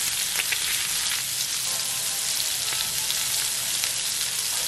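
Lamb chops sear in a hot pan with a dense, steady crackling sizzle, loud and close, with small pops scattered throughout and no voices.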